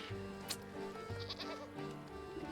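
Sheep bleating in the video game Wytchwood, a few short nasal bleats over steady game music, moderately close and clear.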